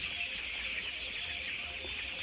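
Chickens in a warm indoor poultry shed, their clucking blending into a steady, dense background of hens with a constant high-pitched hum of activity and no distinct individual calls.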